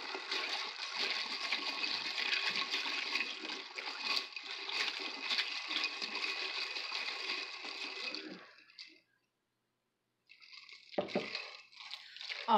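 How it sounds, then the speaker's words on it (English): Orange drink poured into a glass in a continuous liquid stream for several seconds, then a short pause and a few clinks and swishes as it is stirred, close and fairly quiet. "fill the rest up with my orange drink. And give it a good stir."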